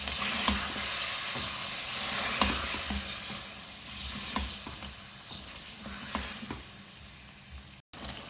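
Masala spices roasting and sizzling in a pan with a splash of water for chicken chana dal, a steady close crackling fry with occasional sharp spatters and stirring scrapes throughout.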